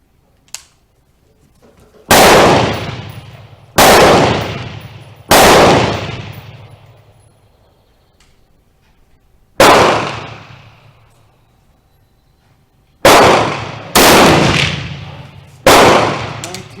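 Seven sharp, loud rifle shots from a Remington Rolling Block chambered in 7mm Mauser, fired singly at irregular intervals outdoors, each with a booming decay, the last few coming in quicker succession.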